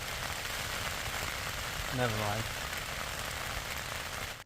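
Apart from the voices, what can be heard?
rain falling on a tent while wild camping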